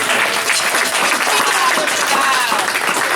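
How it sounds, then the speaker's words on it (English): Audience applause at a Shabbat afternoon gathering, a dense, continuous clapping from a crowd that stays loud and even throughout, with some voices mixed in. "Give them another round of applause."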